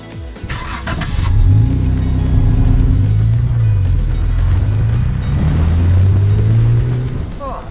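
A Jeep crawls along the Miller Jeep Trail in first gear, its engine a loud, close, steady drone that rises and dips with throttle, with rumbling over rough ground and people talking in the cab.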